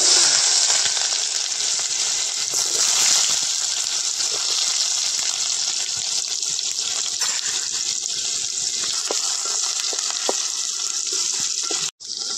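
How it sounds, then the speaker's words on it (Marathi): Onions frying in hot oil for a tempering, a loud, steady hiss and crackle of sizzling that runs unbroken at close range, with no voices. "त्याच्यात फोडणीसाठी कांदे,"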